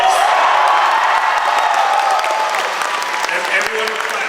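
A packed convention panel crowd at PAX 2010 claps and cheers loudly, with dense applause and scattered whoops that ease slightly toward the end.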